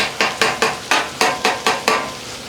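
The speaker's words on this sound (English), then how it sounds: "Our sausage, we're just gonna break it up. We want to get some browning on that." Sausage being broken up on a Blackstone griddle: a run of about eight sharp, evenly spaced metal spatula scrapes and taps against the flat-top, close and distinct, with no talk.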